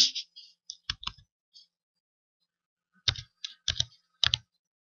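Keys clack on a computer keyboard as a captcha is typed in, two short bursts of quick, close clicks separated by a pause, with no talking.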